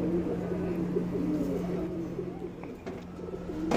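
Pigeons coo steadily inside a loft, low rhythmic calls repeating close by with soft cage and wing rustle underneath throughout.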